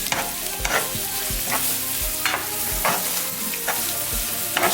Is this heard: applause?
no